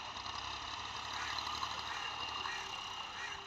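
An old Massey 240 tractor engine runs steadily at a low, even drone, fairly faint and unbroken, with a light mechanical rattle over it.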